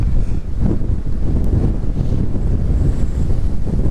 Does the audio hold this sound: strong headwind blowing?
yes